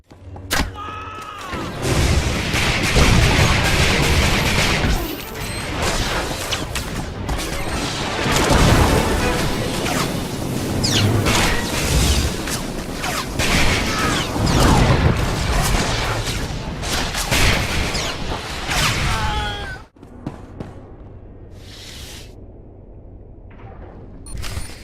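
Heavy explosions from the Star Wars: The Old Republic video game on Hutta, a factory and ship being blown up, booming loudly and continuously with crashing debris and thuds for about twenty seconds before dropping to a quieter rumble.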